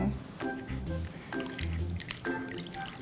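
Water splashes and drips as soap is rinsed off a newborn baby during a bath at a mother-and-child hospital, in repeated soft wet pours and sloshes, close by, with a voice speaking throughout.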